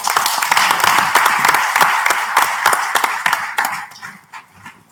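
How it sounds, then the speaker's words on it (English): An audience applauds after a speech at a women's development program event: dense, steady clapping that fills the room and then thins and fades over the last second. "Let's give Dr. Desi Spady another round of applause."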